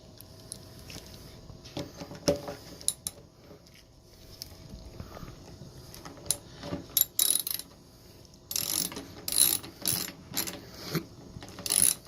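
Small metallic ratcheting and clicking while the tank bib bolts on a Kawasaki 900 motorcycle are tightened: irregular bursts of clicks at close range, growing denser and louder toward the end.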